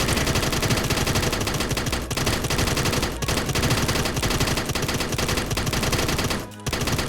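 Rapid, relentless gunfire from a revolver loaded with shotgun shells in the video game Shortventure 3, a dense, loud barrage of blasts that runs nearly unbroken for seconds, with one brief dip near the end.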